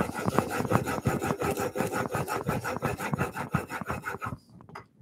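A blade being hand-sharpened on worn abrasive paper, fast rhythmic back-and-forth scraping strokes, close and loud, stopping abruptly near the end.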